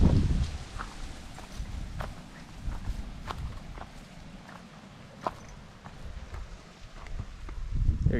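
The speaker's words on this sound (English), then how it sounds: "And we got some two horses here." Two horses walking near a river in Big Bend National Park on the Mexico border, hooves clopping in an irregular, moderately close rhythm over outdoor rustle and ambient noise.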